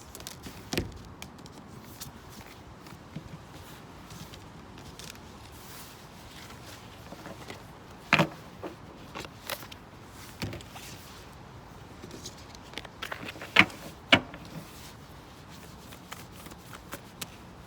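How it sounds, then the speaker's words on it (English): Oracle cards are shuffled by hand for a reading, giving soft riffling rustles and sharp snaps at irregular moments, close and fairly quiet against a hushed room. "Let's pull one more card, see what Roger's saying regarding this."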